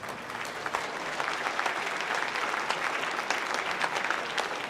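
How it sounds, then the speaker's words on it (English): Steady applause from a gala audience at an evening celebration dinner, dense and continuous for several seconds with no talk over it. "Please give our sponsors a round of applause"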